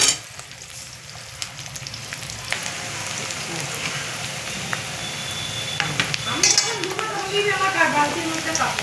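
Chopped onion dropped into hot oil, bursting into a sizzle that swells and grows louder and denser toward the end, with a person talking over the frying.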